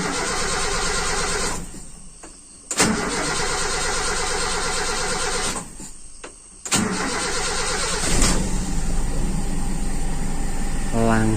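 A carbureted motorcycle engine with a lean idle mixture goes through repeated starting attempts. Each crank is followed by a brief catch, then short gaps, and the engine finally settles into a steady, close running idle.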